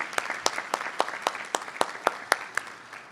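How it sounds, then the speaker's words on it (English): An audience at a spring nurse pinning ceremony claps for the nursing program director, a moderate round of applause with distinct individual claps standing out in a steady, even rhythm. "let's have a hand for our nursing program director, Dr. Bridget Wilson, who's really carried a big load this semester"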